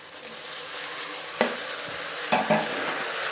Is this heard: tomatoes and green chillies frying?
yes